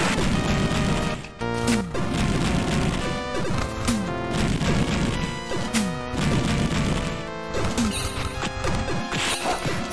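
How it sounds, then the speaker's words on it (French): Death sound from the video game Beyond Oasis: loud, clashing crashes and thuds repeat every second or two over a dense, busy game soundtrack, with no voice over it. "Ça, c'est le son de la mort"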